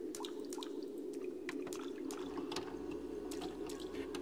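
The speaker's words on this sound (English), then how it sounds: "Water!" Water flowing steadily in the horror video game Cry of Fear, a constant murmuring stream with scattered small drips and splashes on top, moderately close and with no voices.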